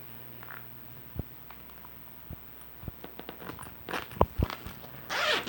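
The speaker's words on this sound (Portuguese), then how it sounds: "vou tirar o pedacinho dos dentinhos de um dos lados do zíper" A zipper slider is pushed onto the cut end of a zipper tape while a travel carry-on bag is being sewn, giving scattered small clicks and scrapes up close, ending in a brief rasping zip, with no talk.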